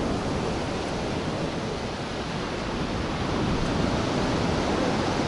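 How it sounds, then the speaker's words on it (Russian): Storm waves roll onto a beach at Alushta in September, a steady dense roar of surf churning murky water, loud and continuous with wind noise and no voices. "Вода мутная, волны поднимают всю муть."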